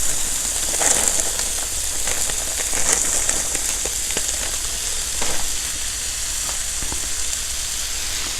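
Riced cauliflower sizzles steadily in a hot pan with melted non-dairy spread, a constant close frying hiss with faint crackles and occasional pops throughout, no talking.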